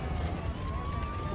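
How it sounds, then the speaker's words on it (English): Fire truck and ambulance sirens wail beneath a dense roar of rumbling noise at a plane crash scene, one steady siren tone standing out over the din. "Fire trucks and ambulances race to help them."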